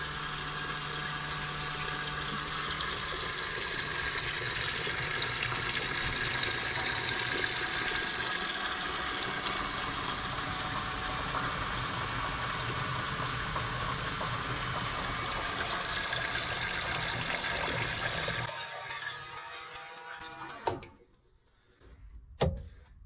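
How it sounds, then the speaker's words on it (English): Water runs steadily from a 12-volt tap into a sink in a Renault Trafic campervan conversion, a loud continuous hiss and splash near the tap that cuts off abruptly near the end, leaving a few faint knocks. "Running water in the van."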